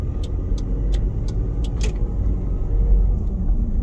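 A 2.2 liter turbo diesel Toyota Previa Estima Lucida cruises with a steady, loud, low engine rumble heard from inside, while faint rhythmic ticks and clinks sound over it.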